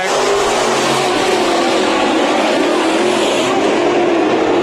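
Race cars roar continuously around Bakersfield Speedway during a heat race, a dense, loud wall of engine noise from several cars running together at full throttle.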